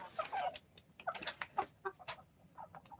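Farm chickens cluck in short, scattered bursts, fairly faint and close, with quiet gaps between calls.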